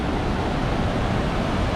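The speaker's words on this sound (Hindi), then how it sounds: "यहाँ से दरिया बह रहा है। दरिया का शोर ज़्यादा है" Roaring rush of a mountain river in Haramosh valley, heard on a motorbike tour from Lahore to Skardu: a dense, steady broadband wash of water noise, loud and close, with no talk.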